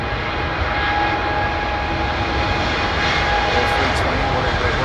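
An Airbus A319 or A320 jet at London Heathrow Airport makes a loud, continuous engine roar with a steady whine, heard close and alone.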